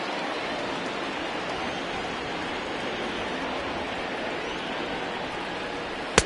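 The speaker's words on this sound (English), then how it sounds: "the rain starting to intensify here. It's coming down a little heavier now." Steady broadband rain falls in MLB The Show 20 during a Cubs versus Cardinals baseball game, a dense, even hiss that holds throughout with no change in level, ending in one brief sharp click.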